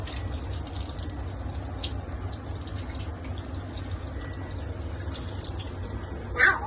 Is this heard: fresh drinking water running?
yes